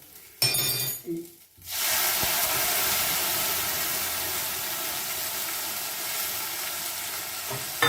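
Onions sizzle steadily in hot oil, a loud, continuous frying hiss that starts after a brief clatter and carries on without pause.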